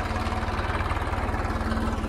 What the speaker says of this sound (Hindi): ये देख सकते हैं आप ट्रैक्टर जा रहा है